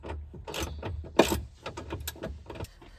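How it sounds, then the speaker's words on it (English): A Jeep Wrangler JLU roll bar mounting kit gets its top bolts tightened with a 9/16 wrench and socket, giving quick metallic ratcheting clicks and clanks in irregular bursts, close and moderately loud. "For the top bolts, we're using the 9/16 wrench and socket."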